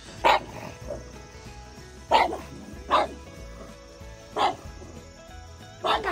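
A pug barks five times in sharp, spaced bursts, close by, with quieter rustling and faint background sound between barks.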